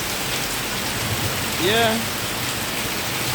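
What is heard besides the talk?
rain falling on a rainy day in Kingston, Jamaica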